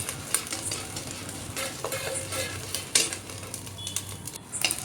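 Sabudana chivda sizzles in hot oil, a constant bubbling fry with occasional stirring scrapes and clinks against the pan, close and moderately loud with no voices.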